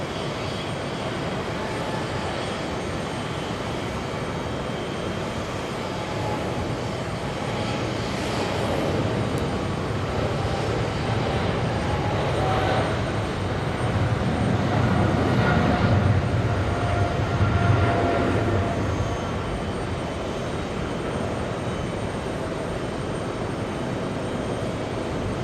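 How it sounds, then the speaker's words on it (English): A British Airways Boeing 777 takes off down the runway at JFK Airport in New York, its engine roar a steady, broad rumble that swells slightly toward the middle before easing back, heard from a distance. "let's go for the British 777 racing down the runway as we speak"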